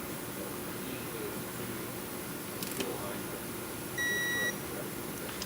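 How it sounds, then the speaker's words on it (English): A digital torque wrench gives a short, faint electronic beep on reaching 9 foot-pounds while tightening a bolt during an oil change on a Honda Talon side-by-side, set against steady background hiss. "And that little beep lets you know you're at 9 foot-pounds."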